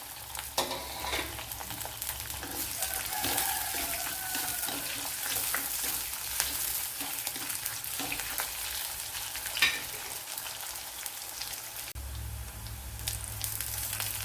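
Two green chillies, six or seven garlic cloves and a small piece of ginger sizzle and fry in a pan for a Kerala-style pumpkin dish, with a continuous close crackle, some stirring noises and no speech.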